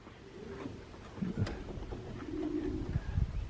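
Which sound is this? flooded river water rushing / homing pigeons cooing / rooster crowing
homing pigeons cooing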